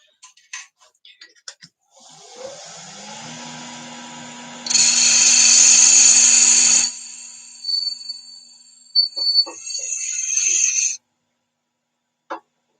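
A metal lathe fitted with a boring head cuts metal while making a ring, a steady machining whine rising to a loud harsh cutting burst midway, then intermittent shorter cuts before stopping; a voice is briefly heard under it.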